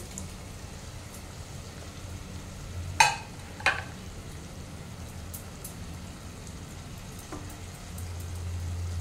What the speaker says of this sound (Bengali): এতে আমি আলুগুলো দিয়ে দিচ্ছি।